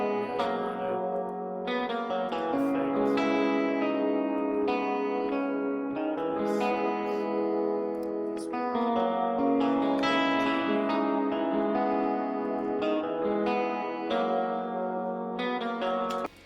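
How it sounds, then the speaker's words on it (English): Clean electric guitar from a virtual instrument playing a steady melodic line with chords, no distortion, bright and sustained with some effect shimmer, no voices. "Clean guitar is the same guitar, shredded Hydra, without"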